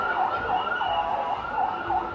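Ambulance siren in a crowded Bengaluru street during New Year night celebrations, a repeating wail cycling roughly every half second, fairly loud over a dense wash of crowd and traffic noise.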